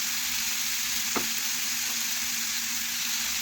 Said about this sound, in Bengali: দিলাম টমেটো কুচি। এখন একসাথে ভালোভাবে একটু মিশিয়ে নিলাম।